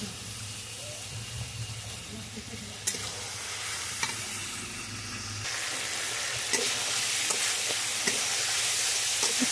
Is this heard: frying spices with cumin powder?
yes